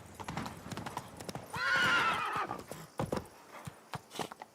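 Hooves clip-clop steadily as a horse gallops in The Witcher 3 video game, with a loud whinny rising in the middle of the run, the pounding continuing after it.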